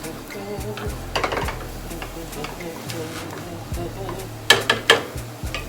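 Shrimp and cauliflower rice in olive oil are stirred in a pan, with a low sizzle under scattered spatula scrapes and a few sharper clacks toward the end, while someone talks.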